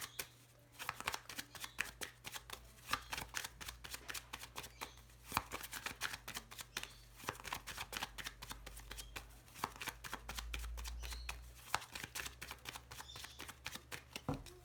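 A Lenormand card deck is cut and shuffled close up in a rapid series of crisp riffling flicks and soft slaps, nearly continuous over a low background hum.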